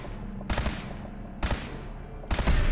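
Gunfire rattles at a turret in Fallout 4, three separate short bursts of rapid shots, loud and close, spaced about a second apart over a low steady hum.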